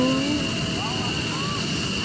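An F-16 fighter jet roars overhead at a Royal Thai Air Force 88th anniversary celebration, a continuous loud engine rumble filling the clip while spectators' voices chatter beneath it.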